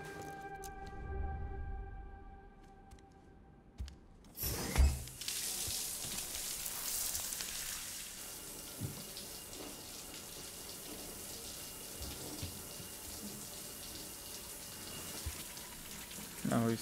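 Shower water running in the video game Death Stranding: after a brief thump, a steady close rush of spraying water continues, with quiet music at the start.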